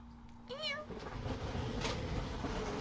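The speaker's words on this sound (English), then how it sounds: "Meow to you too." A house cat gives a single rising-falling meow, close and fairly clear, over a steady low background hum with a brief faint tonal drone at the start.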